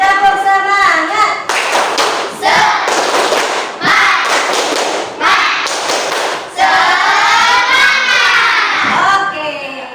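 Children clap a rhythmic spirit clap in a classroom, several loud bursts of group hand claps with voices chanting between and over them.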